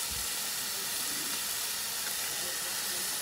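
Steak searing in hot oil in a pan for a small dinner, a steady broadband sizzle and hiss that holds evenly throughout, close and moderately loud with no talking.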